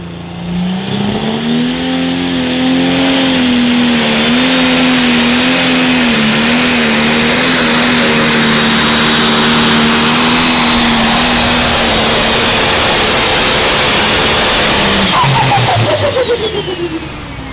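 A John Deere 70R pro stock pulling tractor roars at full power during a tractor pull in Mazomanie, Wisconsin: a loud, sustained engine drone with a steady pitch that wavers slightly before dropping off sharply near the end.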